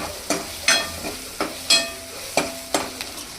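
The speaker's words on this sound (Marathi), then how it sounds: "असा चांगला पुन्हा पुन्हा पुन्हा पुन्हा परतवत राहायचं आहे आपल्याला" Goat brain (bheja fry) being stir-fried in a pan, with about seven sharp, close spatula scrapes and tosses arriving in an uneven rhythm over a soft background sizzle.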